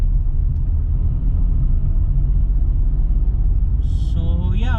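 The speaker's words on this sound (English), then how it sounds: "Right now I'm in the 3rd gear and the car is struggling." A 2022 Volkswagen Polo's engine drones loud and low as it labours up a hill in third gear, a steady strained rumble with a short higher whine rising near the end.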